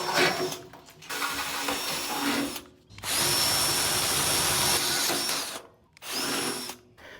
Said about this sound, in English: Now I'm going to re-drill with an 8 mil to make a bigger hole.